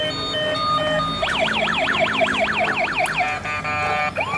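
A toy fire truck plays an electronic wailing siren that sweeps up and down in quick, regular cycles, preceded by short beeping tones, fairly clear against a low background hum.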